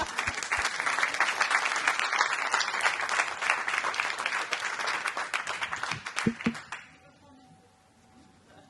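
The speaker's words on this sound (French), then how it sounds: "on peut vous applaudir et vous remercier" Workshop audience clapping in a dense, steady round of applause for nearly seven seconds, a few louder claps near the end, then it fades away to a quiet room with a faint hum.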